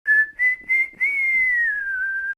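A person whistles a sharp, clearly toned melody, three short notes followed by one long sustained note that slowly bends downward, heard close and alone with no talking.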